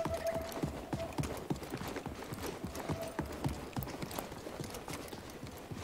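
A hoofed animal running in Jedi Fallen Order, a rapid, even clip-clop of hoofbeats held at moderate volume through the whole stretch, with no speech over it.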